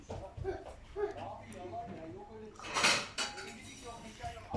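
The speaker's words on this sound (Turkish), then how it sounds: "Hemen bir tabak getireyim." Dishes clatter and a plate clinks as it is fetched, with a sharp burst of rattling midway, while a person talks over the sounds.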